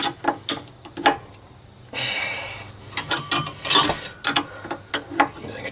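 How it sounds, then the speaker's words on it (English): A tubing wrench works on the electric fuel pump fitting of a 1965 Corvair, giving close, sharp metallic clicks and ratcheting ticks in irregular bursts with short pauses. "Using a tubing wrench on this?"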